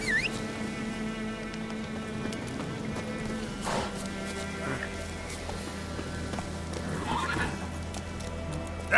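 Roach, a horse in The Witcher 3: Wild Hunt, gallops with rapid hoofbeats and lets out whinnying neighs over a droning game music bed, with brief grunts from a rider.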